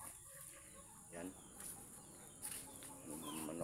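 Pet chickens cluck and murmur nearby at a backyard feeding, soft repeated calls over a constant background hum.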